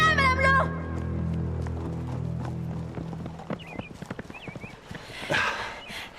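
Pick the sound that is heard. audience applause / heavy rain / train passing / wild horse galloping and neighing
wild horse galloping and neighing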